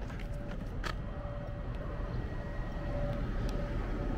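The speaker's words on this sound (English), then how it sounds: "this plane isn't going to land on the aircraft carrier. It's going to land in the airport" An airplane flies overhead toward an airport beside the Delaware River in Philadelphia. Its low, broad engine roar holds steady against outdoor street ambience, with a faint whine riding through it and a few brief clicks.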